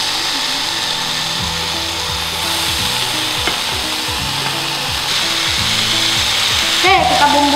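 Sliced beef frying in its own rendered fat in a hot pan, a steady close sizzle throughout with scattered pops and scraping stirs, no talking.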